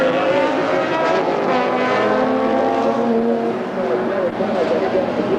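Touring race cars accelerate away from the start at Barbagallo Raceway, one car stalled on the grid. Their engines give a loud, dense, continuous roar that fills the whole stretch.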